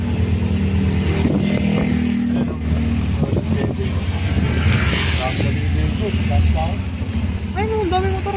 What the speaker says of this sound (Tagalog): lakas ng putok ng ulan